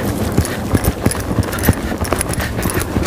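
Hooves of Sereno, a young, barely started horse, clip-clopping steadily under a rider: a close, loud, rhythmic beat of hoof strikes on the ground, with no talking.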